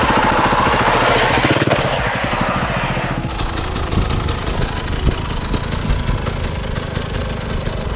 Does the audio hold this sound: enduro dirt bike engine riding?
yes